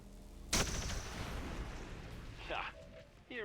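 A single sharp gunshot from a soldier in the video game XCOM 2 Long War, loud and close, followed by a decaying rumble and faint game effects.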